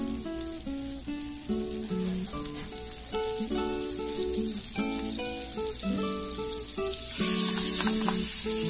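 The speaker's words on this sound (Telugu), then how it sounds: "ఇందులో మనము బటర్ యాడ్ చేసుకుందాము. బటర్ 2 స్పూన్స్ వేసుకోవాలి" Two spoons of butter melt in a pan for white sauce, sizzling and crackling continuously and growing slightly louder near the end, with a tonal melody playing underneath.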